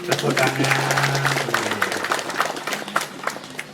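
An audience at a gathering breaks into dense, continuous applause that stays steady throughout, with a voice briefly audible beneath the clapping at the start.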